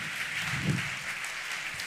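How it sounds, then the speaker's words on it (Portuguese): An audience at a corporate HR conference claps together, a dense, steady patter of hands filling the short stretch at moderate volume. "uma salva de palmas. Salva de palmas."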